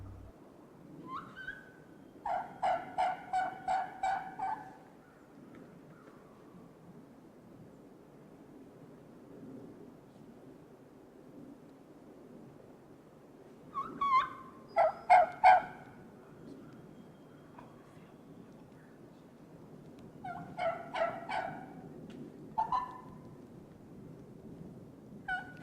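Wild turkeys gobbling in the field during a youth turkey hunt, several rapid rattling bursts at intervals, fairly distant over faint wind and background hiss.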